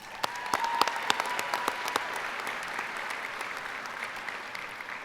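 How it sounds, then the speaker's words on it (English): Audience applause at a spring graduation convocation ceremony, a steady wash of many hands clapping that holds evenly across the whole stretch, with a few sharper claps standing out near the start. "Let me just give them a round of applause."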